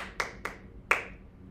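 Three crisp finger snaps as body percussion in a classroom rhythm game, the first two quick and evenly spaced, the third slightly louder after a short pause, close and clear with no voices.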